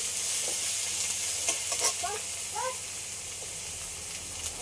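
Panch phoron spices and chopped tomato fry in a pan for a cut-rohu fish curry, giving a constant hissing sizzle with a few brief stirring sounds, close and steady.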